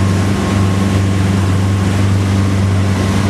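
Motorboat engines pulling about 3,000 revs at speed on the Solent, a loud, steady low drone with constant rushing water and wind over it, unbroken throughout.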